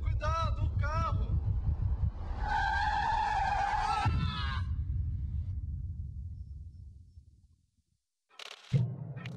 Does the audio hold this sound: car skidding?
yes